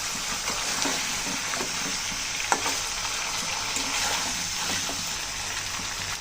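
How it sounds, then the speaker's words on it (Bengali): Pangas fish curry with spices sizzles and fries in a pan while being stirred, a steady close hiss with scraping stir sounds throughout, no talking. "হালকা করে মিশিয়ে নিলাম মাছ তরকারি মশলার সাথে"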